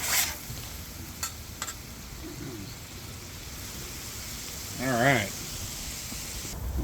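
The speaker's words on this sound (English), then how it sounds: "there's our meat cooking away" Taco meat for street tacos sizzles on a 21-inch VEVOR commercial electric griddle: a steady, close hiss that runs throughout, with a few brief clicks and a short chirp-like tone partway through.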